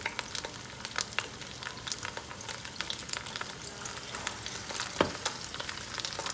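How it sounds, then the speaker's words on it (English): Oxtails and vegetables sizzle steadily while browning in a Ninja Foodi pressure cooker, a continuous close frying hiss broken by scattered sharp pops and stirring clicks, with no talking. "It's gonna take a minute to brown these on the side because of the amount that we have"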